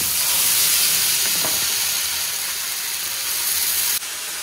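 Hot oil sizzles steadily in a pan before a dosa is cooked, a dense broadband hiss throughout with a faint click partway and a slight drop in level near the end; no voices.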